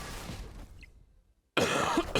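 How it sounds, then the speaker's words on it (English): A single harsh cough bursts out loudly near the end after a brief hush, preceded by a rougher, muffled throat sound. "I have such a bad cough right now."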